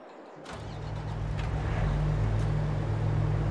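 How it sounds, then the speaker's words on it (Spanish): A tractor engine in the video game Farming Simulator 22 starts up after a brief silence and settles into a steady, low droning rumble that holds to the end, with no talking. "Y subimos el tractor otra vez."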